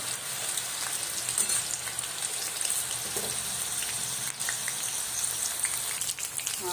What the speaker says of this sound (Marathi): अशा प्रकारे मिरची आपली तेलामध्ये फ्राय करून झालेली आहे